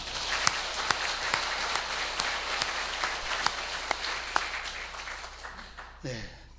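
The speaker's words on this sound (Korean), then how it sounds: "봉사하는 모든 분들을 위해서 우리 감사와 격려의 박수 뜨겁게 드리겠습니다" A church congregation claps in thanks for its volunteers, a moderate, fairly distant patter with a few sharper single claps standing out, and a voice enters briefly near the end.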